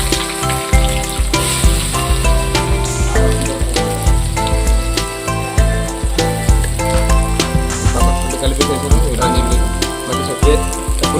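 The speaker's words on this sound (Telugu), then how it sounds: "ఆ తర్వాత ఉల్లిపాయలు, గోటా జీర, ఆవాలు వేసుకొని తర్వాత ఉల్లిపాయలు వేసుకోనండి." Onions, cumin and mustard seeds sizzle in hot oil for a desi-style fish pulusu, a steady frying hiss running throughout beneath loud, continuous background music.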